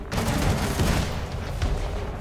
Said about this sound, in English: There's another rocket launch.